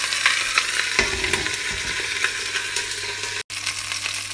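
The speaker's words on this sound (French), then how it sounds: "on saisit les cuisses de lapin un peu vite." Rabbit legs searing in a hot pan for a Basque-style dish, a loud continuous sizzle with a few scraping stirs and light clinks.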